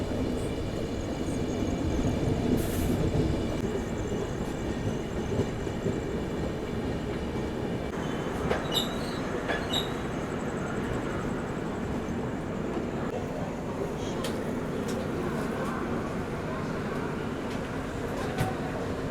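Rajdhani Express pulling into Kanpur Central railway station at night, a steady low rumble of the moving train with rail noise and station ambience throughout, a few faint clanks and tones rising over the continuous drone.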